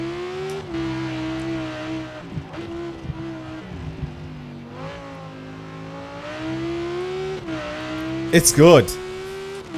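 A rear-wheel-drive tuned car in Forza Horizon 4 drives and revs, its engine note rising and falling with gear changes and a brief loud tire squeal near the end, while someone talks over it.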